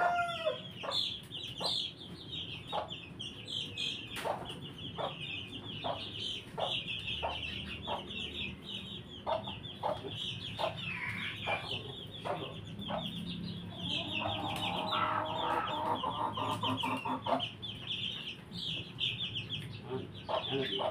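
Native chickens on a Filipino farm cluck in repeated sharp bursts, with scattered calls and a rooster-like cry midway, fairly close over a soft farmyard background, with no talking.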